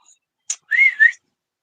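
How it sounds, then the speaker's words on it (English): Pet bird whistling indoors: a short sharp chirp followed by two clear, close, sliding whistled notes, brief and isolated against silence. "he's much more ready to whistle than he is talking"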